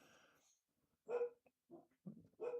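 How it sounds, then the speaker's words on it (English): A dog barks a few short, faint yips and woofs from a room away, with quiet gaps and whimpery sounds between them. "My dog is barking."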